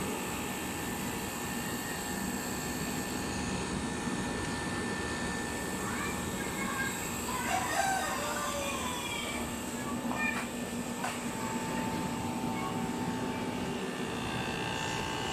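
A freshly freon-charged aircon compressor running with an original compressor, a steady loud droning hum throughout with faint tonal whines and brief higher squeaks in the middle.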